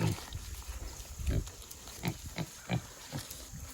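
A pig grunts in a series of short, close snorts and oinks at an irregular rhythm during a sweet potato harvest, with a few brief bursts standing out louder than the rest.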